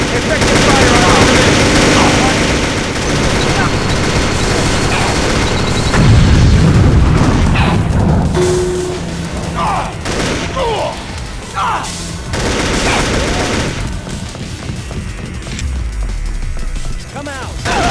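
Gunfire and booming blasts in the Deus Ex video game, sounding in dense bursts over a noisy combat mix, with voices shouting commands at times.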